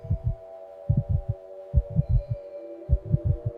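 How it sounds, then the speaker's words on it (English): Heartbeat sound effect of a mouse in dry grassland: deep, muffled thumps in quick clusters of three to five beats, separated by short pauses, over a steady low hum. "The harrier can hear a mouse's heartbeat through the thicket."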